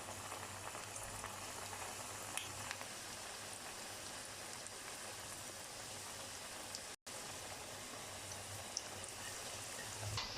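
Cabbage and potato pakoras fry in hot oil over medium flame, giving a steady, dense sizzle and crackle that runs throughout with no talking, broken by a brief dropout.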